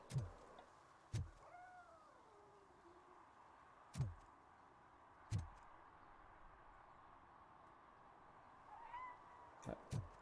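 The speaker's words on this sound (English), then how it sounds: "I hear a cat, but I do not see a cat." In the video game Robocop: Rogue City, a cat gives a couple of soft, drawn-out meows between sharp, heavy thuds from the game, all against a quiet background.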